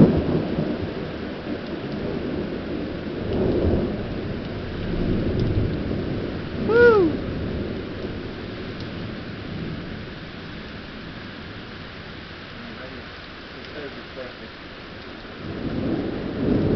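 Thunder rumbles through a steady rain during a June lightning storm in Wheeling, West Virginia, with low rolling swells and a sharper crack partway through over continuous rainfall.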